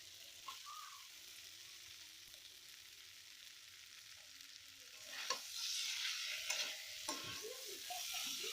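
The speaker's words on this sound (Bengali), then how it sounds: "এখন আমি দিয়ে দেবো ভেজে রাখা আলুগুলো।" Pre-fried potatoes are stirred into a spiced pea curry in a pan, a low simmering bubble at first, then a louder sizzle and scraping strokes in the second half; no one talks.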